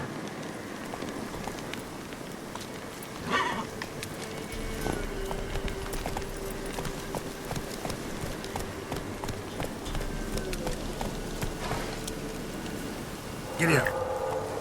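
A horse galloping in The Witcher 3, steady rapid hoofbeats running throughout with rain-like hiss and a couple of brief louder bursts.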